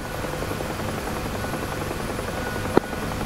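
A UH-1H Huey helicopter flies in the combat flight simulator DCS, making a constant, close rotor and engine drone with one sharp click near the end.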